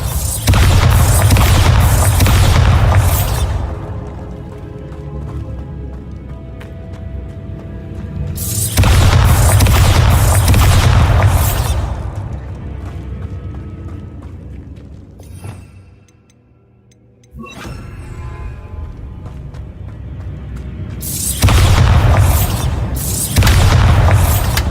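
Bombarda blasting spells explode in Hogwarts Legacy on PS4 Pro: three heavy, loud booms spaced far apart, each one bursting and then rumbling away in a long decaying tail, with a short near-silent gap between the second and third.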